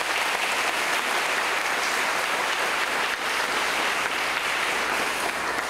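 A church congregation applauds at a parish patronal feast, a dense steady wash of clapping from many hands throughout, loud and continuous with no speech over it.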